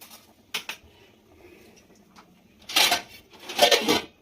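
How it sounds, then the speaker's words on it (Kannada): Stirring ingredients with oil in a cooking pot for egg and Mysore dal sambar: a short clink early, then two louder bursts of scraping and clattering against the pot, close and with no talk. "ಎಣ್ಣೆ ಹಾಕ್ಕೊಂಡು ಚೆನ್ನಾಗಿ ಮಿಕ್ಸ್ ಮಾಡೋಣ."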